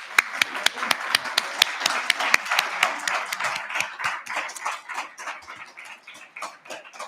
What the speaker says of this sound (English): a big round of applause for our experts